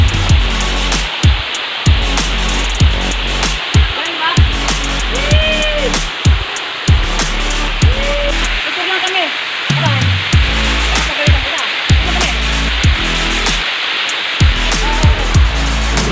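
Steady broadband rush of Taramis Falls, a waterfall in Montalban, Rizal, runs the whole way through, loud and close, while people talk over it.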